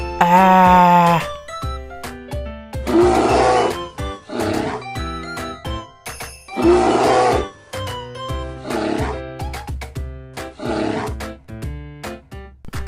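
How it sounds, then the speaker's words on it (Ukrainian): Several deep, growling animal roars come in loud bursts, separated by short pauses, alongside a bright musical tone at the start. "Ведмідь реве."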